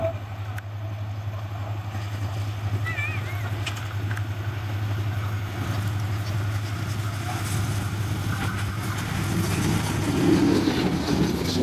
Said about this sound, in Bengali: ট্রেন দেখুন আবার দ্রুত বেগে আমাদের দিকে ছুটে আসছে।